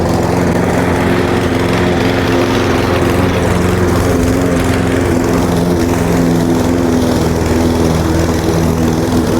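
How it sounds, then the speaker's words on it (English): A lawn mower engine runs steadily and loudly up close while cutting spring grass, a continuous droning hum with no pauses and no voices. "one pull and starts right back up"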